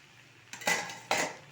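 Lid lifted off a pan and pumpkin curry stirred inside it: two quick metallic clatters of lid and utensil against the pan, close and moderately loud, with no voice.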